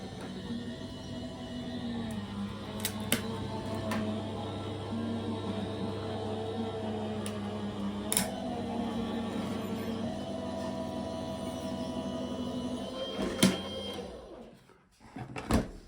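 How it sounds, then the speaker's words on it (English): A die-cutting machine runs a plate sandwich of card through with a quiet, steady mechanical hum and a few faint clicks and knocks, then winds down at the end. "I'm going to send that through the machine."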